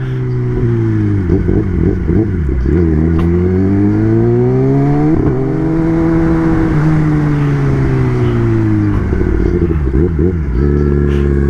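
A Kawasaki ZX-10 motorcycle engine drones steadily up close, its pitch dipping and rising as the rider shifts down and misses the shift into first, with rapid revving blips and a loud, throaty hum throughout.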